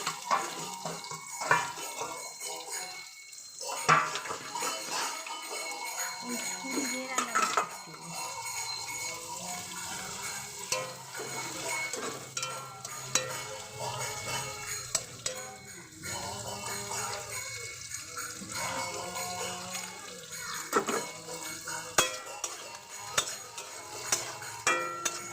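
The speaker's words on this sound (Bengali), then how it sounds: "তেল দিয়েছি, তারপর একটু বাটার দিয়েছি, এরপরে এই পেঁয়াজ কাটাগুলো, পেঁয়াজ আর ক্যাপসিকামগুলো" Onions and capsicum frying in oil and butter in a pan, with soft sizzling under frequent clinks and scrapes of a utensil stirring, fairly quiet and close.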